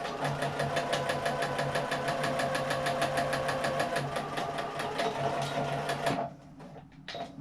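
Sewing machine understitching a seam allowance on a small fabric hand sanitizer pouch, a close, steady rapid stitching rhythm for about six seconds before it stops and leaves faint handling noise.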